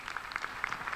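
A short burst of applause from an audience at a venture capital accelerator grand finale, a few seconds of scattered clapping heard alone without talk.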